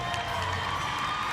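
The Mavericks home crowd at a Suncorp Super Netball match cheers and roars, a dense, steady wall of cheering and shouting filling a large arena, with no talking heard.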